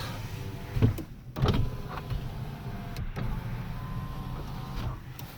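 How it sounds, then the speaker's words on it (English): Power windows of a 2005 Ford Ranger XLT 4x4 pickup whir up and down in several short motor runs inside the cab, each ending with a soft thump, close and fairly quiet. "Power windows."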